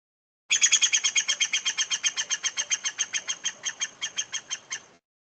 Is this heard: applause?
no